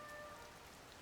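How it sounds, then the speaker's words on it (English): Rain in the video game Zelda: Tears of the Kingdom, a soft, even patter of drops on surfaces, quiet and continuous, with a faint tonal chime briefly sounding at the start. "But it's only rain."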